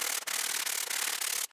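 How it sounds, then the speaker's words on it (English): A sanding pad with worn 80 grit sandpaper scrubs rusty truck body metal, giving a steady, close, harsh rasping that runs unbroken and then stops abruptly. "I've got some 80 grit sandpaper on this sanding pad"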